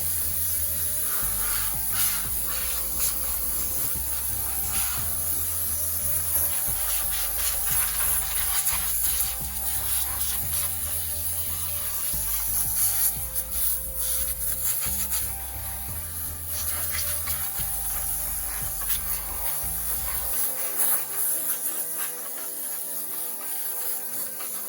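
A long-reach air blowgun blows dust out of a car engine bay, a loud, steady hiss of compressed air that runs nearly continuously and fluctuates slightly, alone without talk.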